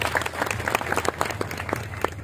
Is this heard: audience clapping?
yes